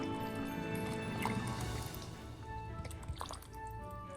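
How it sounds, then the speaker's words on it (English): Heavy cream poured into a pot of creamy Tuscan chicken soup with kale, a soft close liquid gurgle and drip, quiet and continuous. "now I'm going to add in some heavy cream"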